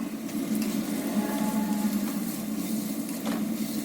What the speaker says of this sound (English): And then we add the brinjal.